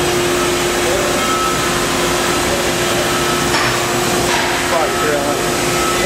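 The spindle of a 2004 Daewoo DMV 3016 vertical machining center runs at just over 1,000 RPM on a dry run. It gives a steady, close, loud whirring hum with a constant tone throughout.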